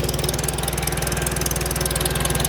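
A 1954 IH McCormick Farmall Super C tractor, fitted with new coil, points, plug wires and exhaust, runs close by with a steady, loud, fast-chugging engine pulse.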